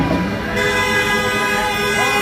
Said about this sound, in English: All the cars are honking.